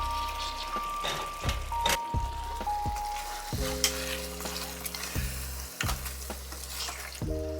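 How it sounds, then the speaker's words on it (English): Pork tipped into a hot pot of cooked onions sizzles and fries steadily while being stirred and flattened, with close scraping strokes and a faint musical tone in the background. "dump the pork into the pot, mix with the onions and flatten into an even layer"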